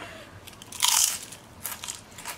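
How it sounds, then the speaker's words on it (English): A freeze-dried dill chip is bitten and crunched, giving one loud, close crisp burst followed by a few softer crackling chews. "the crunch on that sounds crazy"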